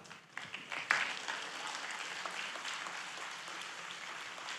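A church congregation claps, starting with a few scattered claps and building into steady applause that continues at a moderate, somewhat distant level.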